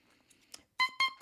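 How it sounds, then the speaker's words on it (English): A freshly made day-one oboe reed, blown alone, gives three short, bright, buzzy beeps in quick succession after some faint fumbling noise. "It's got a beep with a little bit of resistance in it."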